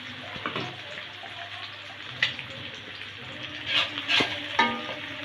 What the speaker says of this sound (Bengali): ডিম ভাজার তেলে পেঁয়াজটা রোস্টা করে নেব।